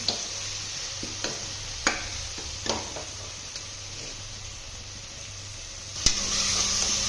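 Fenugreek leaves fry in hot oil with a steady sizzle, broken by a few sharp stirring clicks and scrapes against the pan, growing louder near the end; no one speaks.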